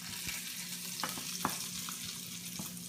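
Maple syrup and butter melting together in a pan for roasted Brussels sprouts give off a low, steady sizzle, with a few soft clinks and scrapes from stirring spread across it.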